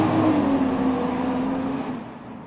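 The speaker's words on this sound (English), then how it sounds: "trash car, trash truck, whatever. Really noisy." A noisy garbage truck rolls past, its engine droning with a steady low hum that slowly fades as it moves away, fairly close and heard on its own.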